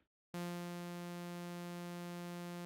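After a brief silence, a bright buzzy sawtooth synthesizer oscillator tone in Ableton Live's Analog starts abruptly and holds steady at one pitch, rich in harmonics and sustained without change.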